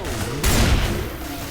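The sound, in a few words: gunfire in video game Left 4 Dead 2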